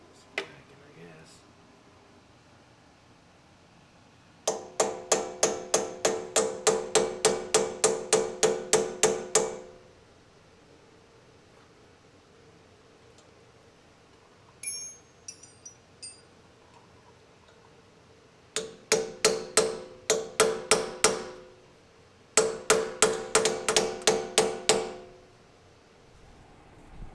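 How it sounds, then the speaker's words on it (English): Hammer blows ring out against the wheel hub of an Oliver 1365 tractor in three bursts of rapid, evenly spaced metallic strikes, loud and close, with short quiet gaps between the bursts. "Try not to whack you with the hammer"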